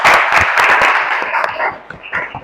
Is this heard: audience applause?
yes